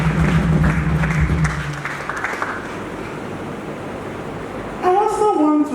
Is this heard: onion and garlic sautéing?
no